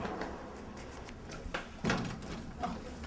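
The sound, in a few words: door opening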